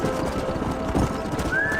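Horses in the Red Dead Redemption video game, with hooves clip-clopping in a steady rhythm close by and a whinny rising near the end, under ambient game noise.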